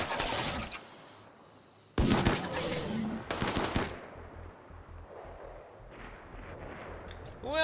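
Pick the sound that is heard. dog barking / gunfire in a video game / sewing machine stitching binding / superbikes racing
gunfire in a video game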